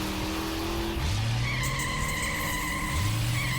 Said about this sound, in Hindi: वो गाड़ी कब से गोल गोल घूम रही है।